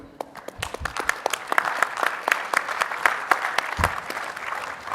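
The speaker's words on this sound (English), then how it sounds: "So shall we give them a round of applause for what they do?" A conference audience applauds steadily, many hands clapping close by in a dense, continuous patter that holds for several seconds.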